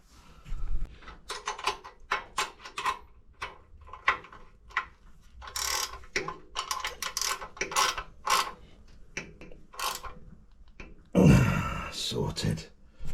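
Bolts being tightened on a custom bobber motorcycle build, with a run of quick ratchet clicks and metallic mechanism sounds close by, broken by short pauses and a louder burst near the end.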